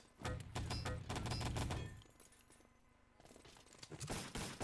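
MP40 submachine gun fire in the video game Wolfenstein: Enemy Territory, rapid loud bursts of shots in the opening two seconds, a quieter lull, then more clustered firing toward the end.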